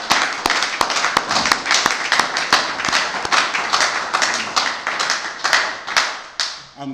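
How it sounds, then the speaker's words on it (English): Hands clapping alone in a steady, fairly quick series of sharp claps, close and loud, marking the arrival of the year 2020 during a New Year's greeting. "I'm clapping because we just walked into 2020"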